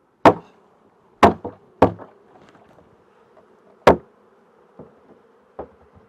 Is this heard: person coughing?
no